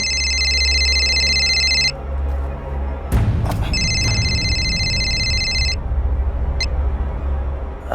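A telephone rings in two electronic bursts, each lasting about two seconds, with a brief gap between them, over a low musical drone in a crime-drama scene.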